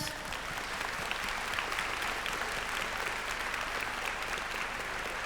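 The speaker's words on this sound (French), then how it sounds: "On remercie, on applaudit Yoshiki pour avoir été ici avec nous" An audience at a Japan Expo conference applauds Yoshiki, giving dense, steady clapping from a large crowd that holds at an even level from start to finish without any talk.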